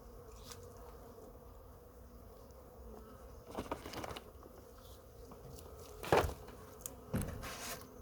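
Honey bees buzz at a weak winter beehive in short, faint bursts close by, with quiet pauses and occasional louder crackling handling noise.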